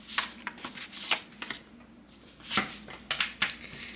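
A thick deck of tarot cards gets shuffled close by, soft riffling and slapping strokes repeating in quick uneven bursts with no talking over them.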